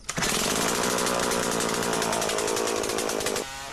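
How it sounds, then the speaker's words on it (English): A chainsaw cutting wood roars at full throttle, loud and close, with a steady high-pitched engine whine that drops to idle near the end. "Under the power of the chainsaw, it takes only a couple of minutes to fell a gigantic tree"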